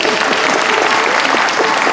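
Steady, dense applause from a live audience at a bluegrass concert, loud and continuous for the whole stretch with no voices over it.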